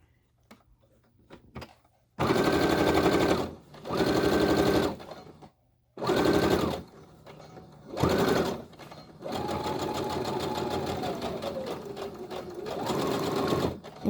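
An electric sewing machine stitches a fabric face mask in several loud whirring bursts that start and stop, including a longer run whose pitch slides down and back up as it reverses to backstitch, close and alone.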